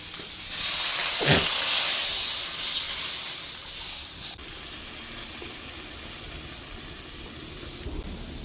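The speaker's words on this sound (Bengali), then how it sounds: "ঝোলটা ফুটতে উঠছে টকবক করে" Fish curry gravy with potatoes coming to a boil in a pot, a loud hiss and sizzle that rises sharply and then settles into a steady, softer bubbling simmer.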